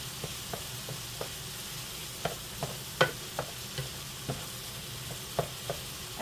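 Taco meat and a large tortilla wrap heat in a frying pan with a soft, steady sizzle, while a utensil taps and scrapes the pan at irregular intervals, the knocks close and sharp.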